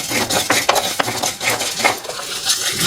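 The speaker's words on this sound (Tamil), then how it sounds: "சீரகம் வந்து பொரிய ஆரம்பிச்சிருச்சு" Cumin seeds and fenugreek dry-roasting for rasam powder, with a spoon scraping and clinking against the pan in uneven strokes, close and fairly loud with no talking.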